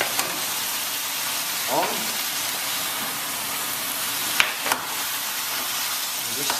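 Vegetables caramelising in a frying pan for a leg of lamb recipe, a loud continuous hissing sizzle with a couple of brief utensil clanks.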